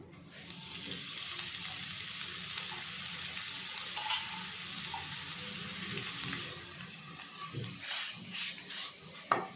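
Grated amla sautés in ghee in a pan, giving a steady close sizzle with a few scraping stirs near the end and no voice over it.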